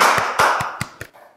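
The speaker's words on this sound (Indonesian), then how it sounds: "habis ngomong FWD Insurance, tepuk tangan dan meriah banget" Studio audience clapping on a podcast set, loud broadband applause with sharp synchronized claps standing out and fading over about a second and a half.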